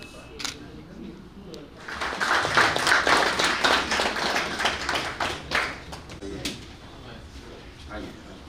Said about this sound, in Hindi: तालियां थोड़ा जोरदार बजाते रहिए